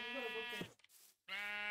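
A Minecraft sheep gives two loud, close bleats separated by a short gap, with no other sound around them.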